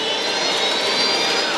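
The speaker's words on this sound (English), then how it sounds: "Captain Grubbs tries to steer clear of the oncoming KLM." KLM jet airliner roaring down a fog-covered runway, a loud, steady jet-engine rush filling a short burst with no talk.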